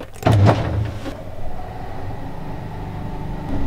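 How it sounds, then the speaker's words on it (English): An elevator car in Barcelona gives a clunk and a short burst of mechanical rattle as it starts, then settles into a steady low motor hum while riding down. "Last ride down this elevator."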